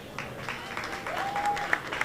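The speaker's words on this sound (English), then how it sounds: "Please give them a big round of applause for being here." Audience applause at a Jamaica 60 launch reception in New York: a dense, steady patter of many hands clapping at moderate volume, with a faint whistle rising in the middle.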